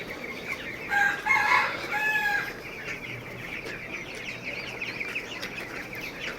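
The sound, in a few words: 17-day-old chicks with rattling breathing from cold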